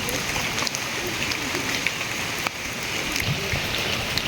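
Steady rain pours down over a traditional village with old houses and stony roads, a dense even hiss with occasional sharper drips, close and continuous with no talking.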